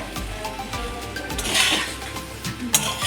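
A utensil stirs homemade egg pasta in a pan, clinking and scraping softly against the metal, with a light sizzle and scattered clatters beneath, fairly quiet and close with no talking.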